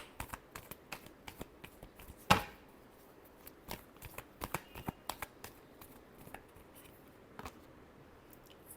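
A deck of tarot cards is shuffled close by, giving a quiet, irregular run of crisp riffles and flicks with one sharper snap early on and no talking.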